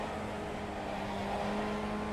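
Honda Formula 1 race car engine in a racing video game, a steady, continuous mid-pitched drone with a faint tonal whine, holding at an even level throughout with no talk.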